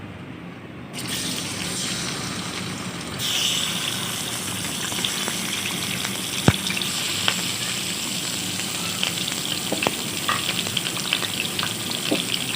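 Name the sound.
chicken frying in hot oil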